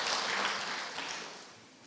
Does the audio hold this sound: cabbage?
no